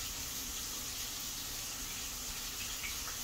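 A knife blade is washed under a running tap, giving a steady, broadband rush of water that stays unbroken and close throughout.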